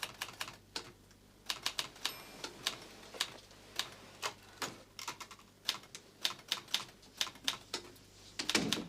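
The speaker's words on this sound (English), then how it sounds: "Turn the typewriter off, would you, please?" Typewriter keys strike in an irregular, steady run of sharp clacks over a quiet domestic background, close and clear with no talking, in a period English drama setting.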